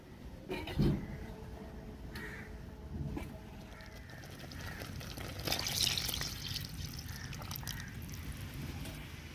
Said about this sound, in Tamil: இப்ப நம்ம கரைச்சி வச்சிருக்க புளியை சேர்த்துக்கிறோம்.